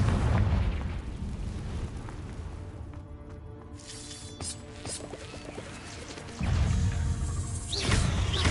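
A Confringo blasting spell from Hogwarts Legacy sets off booming explosions with whooshing bursts, a loud blast at the start and another sudden eruption near the end, with quieter crackling between.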